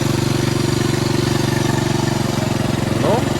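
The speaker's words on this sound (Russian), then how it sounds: "Как видно, этот мотор много мягче работает" A Honda FourStroke 2 outboard motor runs steadily at idle, a smooth even mechanical hum with a regular pulsing beat, close and continuous.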